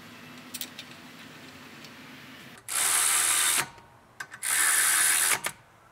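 Ratchet or power driver tightening caliper bracket bolts during a brake repair, two loud bursts of whirring separated by a pause, with faint clinks of tools between.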